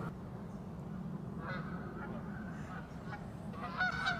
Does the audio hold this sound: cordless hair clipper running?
no